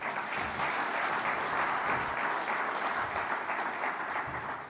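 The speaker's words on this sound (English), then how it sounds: "Just another round of applause for her as well." Sustained applause from a conference audience at a Namibia-EU business forum, steady dense clapping filling the room at even loudness throughout, with no clear talk over it.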